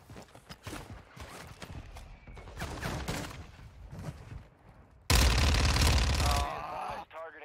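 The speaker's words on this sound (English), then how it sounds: "Mortar strike on the way." Mortar strike in the Call of Duty DMZ shooter: scattered distant gunfire and thuds, then a sudden loud, heavy explosion blast that rumbles for over a second before fading.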